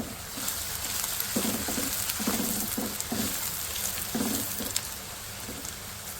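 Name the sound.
chopped onions frying in hot oil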